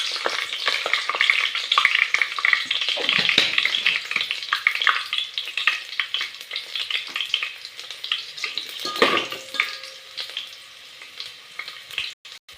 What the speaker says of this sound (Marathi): आता मस्त तळून घ्यायचं लसूण